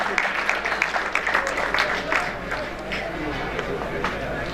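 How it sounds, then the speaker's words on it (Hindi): Applause from an audience at a boys' high school farewell party for a staff member, busy clapping that is strongest at first and then thins out, with voices mixed in underneath. "जोरदार तालियां सर मोहम्मद अशद साहब के लिए।"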